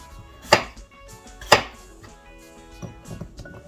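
A knife cuts a rooster potato into small cubes, giving two crisp, loud chops on a board followed by softer, quieter cutting taps, close by with no speech.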